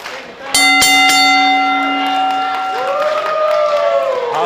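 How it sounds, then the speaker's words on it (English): A ring bell clangs sharply a few times at the start of a women's tag-team wrestling match at a Full Throttle 2023 event, its tone ringing on over steady crowd noise and cheering. "The bell may ring."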